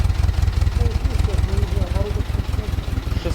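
A GAZ-MM truck engine idles at about 600 rpm with a knocking valve. It makes a rapid, even, close-up chugging pulse, and someone talks over it.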